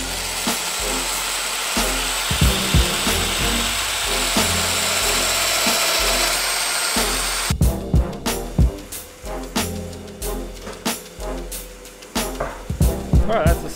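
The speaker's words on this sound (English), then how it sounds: "using the domino, I can just plunge in and make the corresponding mortises" A Festool Domino joiner whines and plunges repeatedly into Meranti wood to cut mortises for guitar stands, a loud close motor hum broken by sharp bursts and knocks that turn more percussive and spaced in the second half.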